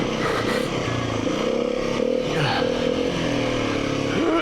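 A motorcycle running in second gear on a ride, its engine droning steadily and loud up close, with clattering and scraping under it and a brief rise near the end.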